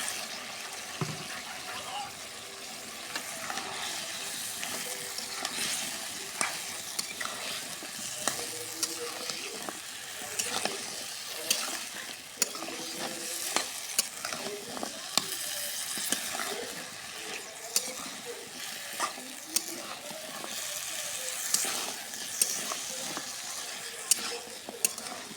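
Jackfruit seeds, pointed gourd and potato fry with spices in oil, a sustained close sizzle broken by repeated stirring scrapes and knocks against the pan, with some faint watery sounds.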